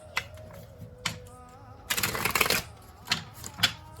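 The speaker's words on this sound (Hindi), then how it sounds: "कार्ड शफल करते वक्त उनके बारे में सोचा करें" A deck of tarot cards is shuffled by hand in a few quick riffling bursts, with one long rustling flurry in the middle, close and fairly quiet, with no talking.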